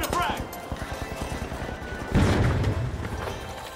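A frag grenade in The Finals goes off with a sudden loud blast partway through, preceded by rapid rhythmic gunshots and followed by a decaying rumble, with a voice briefly heard early on.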